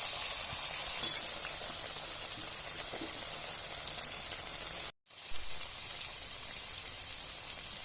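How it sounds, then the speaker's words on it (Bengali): Steady hot-oil sizzle of wheat-flour dough pockets frying in a wok, crackling continuously with a brief cut partway through, no voices. "এরপরে আমি কড়াইতে তেল দিয়ে ভেজে নেব"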